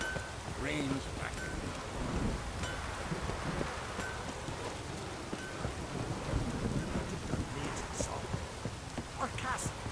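Heavy rain pours steadily through a stormy scene in the video game The Witcher 3, with low thunder rumbling beneath a dense, continuous hiss that stays close and loud throughout.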